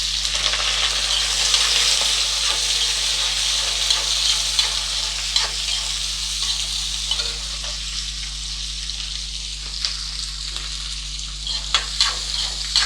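Sliced big onions, green chilies and curry leaves sizzle steadily in a hot oiled pan for upma, a constant bright frying hiss with occasional soft scrapes of stirring, close up and without speech.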